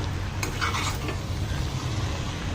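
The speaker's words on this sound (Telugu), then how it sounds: "కింద అడగంటకుండా మధ్య మధ్యలో కలుపుతుండాలి" Cabbage fry being stirred in an oiled pan, a soft scraping stir with low sizzling underneath, steady and close, no voices.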